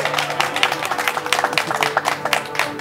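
Guests at a Malaysian wedding break into applause: a dense, continuous patter of many hands clapping at close to moderate distance, lasting the whole few seconds with no clear speech.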